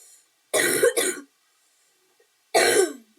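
Two quick coughs in a row, then a pause and one more single cough, close and fairly loud with silence between.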